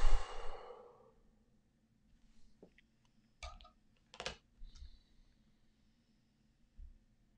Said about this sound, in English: Breathe in and let your air go.